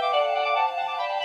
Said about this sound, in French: ah, téléphone, qui c'est